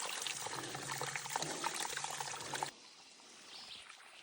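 Water trickles and pours from a spring on the Appalachian Trail, a close steady babble that drops suddenly to quiet outdoor ambience partway through.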